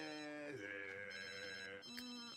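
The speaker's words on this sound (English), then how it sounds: "And Elmore's actually getting a phone call." A phone in The Sims 3 rings with a bright electronic melody, a steady series of tones with a pitch change partway through, heard alone without talking.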